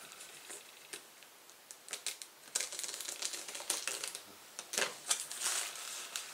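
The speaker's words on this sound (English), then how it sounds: "Using a hobby knife, I'm cutting through" A hobby knife cutting through cellophane wrap on a boxed tabletop game, heard up close as a run of crisp crackles and sharp ticking snaps that grow busier and louder toward the end.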